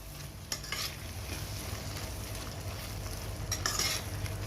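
A spoon stirs tomato biryani in a pot, a soft continuous scraping and sizzling with a couple of brief metallic knocks, low-level and close, with no talking.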